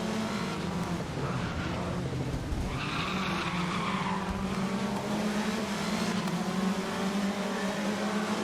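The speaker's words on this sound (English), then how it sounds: "so I'm sliding all over the place." Tires squeal and skid steadily as a race car slides around with worn downforce in a racing video game, a continuous loud screech over a steady engine drone lasting several seconds, with no talking.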